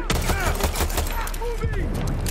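Gunfire in the video game Far Cry 6, a quick burst of overlapping shots at steady loudness with a voice speaking over it.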